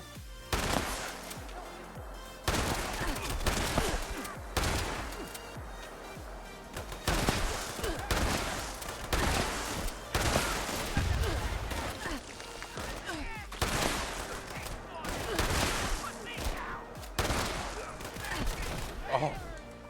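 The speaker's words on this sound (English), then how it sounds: "time to test out my new shotgun" A shotgun fires repeatedly in a video game, loud blasts in irregular bursts, each with a short decaying tail, over a constant backdrop of game sound.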